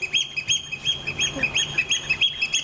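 Birds call repeatedly in quick, bright chirping bursts, several overlapping in an uneven rhythm, fairly loud and close with no voices.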